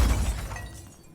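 Glass shatters in the video game Control, a loud burst of breaking that opens with a heavy low impact and trails into fading tinkling debris over about a second.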